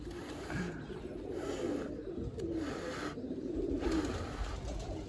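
Domestic pigeons in a rooftop loft coo continuously, several birds with low rolling calls in repeated bursts, close and moderately loud, with faint background noise and no talk.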